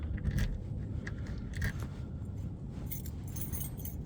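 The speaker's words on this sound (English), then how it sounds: "I'm gonna just verify I lock that door again because none of these keys are working" A bunch of keys jangles and rattles close by while someone works at unlocking a house door in Buffalo, a steady busy clatter of metallic clicks and scrapes with no talking.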